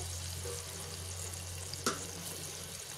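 Mustard seeds, cumin and crushed garlic sizzle in hot oil for tamarind rasam, making a faint, steady hiss over a low hum, with one sharp click midway.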